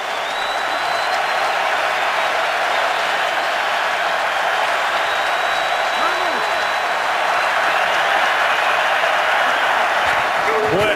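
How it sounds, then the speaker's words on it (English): A packed football stadium crowd roars in a continuous, loud wash of cheering on third down in a Cowboys at Titans NFL game, steady throughout and swelling slightly near the end. "Crowd comes alive."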